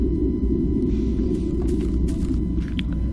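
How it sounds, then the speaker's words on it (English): Deep, continuous wind rumble from the video game Tornado Survival, a dense low roar that stays loud and steady throughout with faint higher hiss above it and no talking. "God, the stupid wind."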